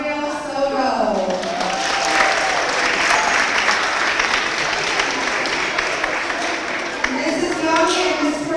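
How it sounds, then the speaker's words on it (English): A crowd claps and applauds steadily for several seconds, with scattered voices and cheers mixed in. "let's give them a big round of applause"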